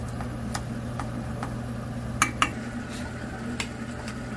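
Pork bulgogi stirred in a pan, with faint scattered clinks and scrapes of a utensil against metal over a steady low hum, a couple of sharper knocks near the middle.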